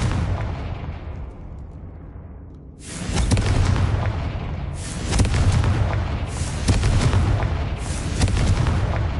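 Confringo fire blast spells in Hogwarts Legacy, several loud booming explosions bursting one after another, each with a crackling, rumbling tail, heard alone without talk.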